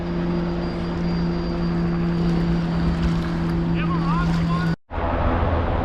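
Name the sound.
helicopter flying low overhead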